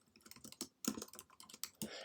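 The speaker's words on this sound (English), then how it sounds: "I didn't finish typing my notes." Notes being typed on a computer keyboard: quick, irregular bursts of soft clicking keystrokes, close but faint, with no talking.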